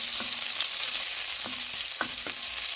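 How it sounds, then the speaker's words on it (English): One medium chopped onion sizzles in a pan, a loud continuous frying hiss broken by a few sharp clinks of a utensil stirring. "I've cut up 1 medium-sized onion already, and I'm just going to let this kind of sizzle a little bit"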